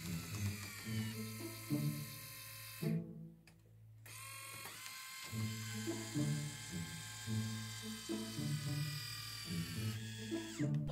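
A repaired mechanical arm runs on a test, its motor whining and buzzing in repeated stepped bursts with mechanical clicking, briefly stopping before starting again.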